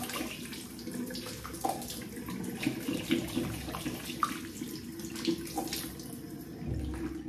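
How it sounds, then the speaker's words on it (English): A bathroom tap runs with softened water as a razor or shaving gear is rinsed under it, a steady, fairly soft splashing stream with small irregular splatters and no talking. "Let me rinse this off."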